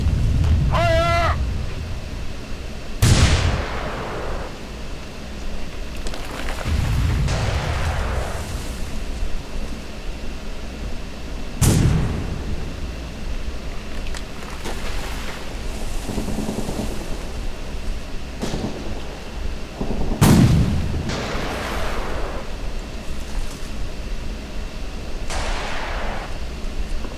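Artillery fires in the World War II strategy game Sudden Strike 3, heard as several deep booming blasts spaced a few seconds apart over a steady low ambient background, with a brief high chirping at the very start.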